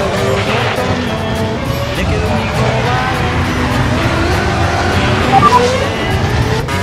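V10 Formula 1 car engine in the Assetto Corsa racing game, a continuous loud engine drone with shifting pitch as gears change, running under steady talk throughout.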